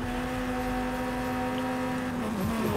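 Car engine in the Fortnite video game, a steady droning hum that holds one pitch, wavers briefly near the end and stays at a moderate level under a faint wash of background noise.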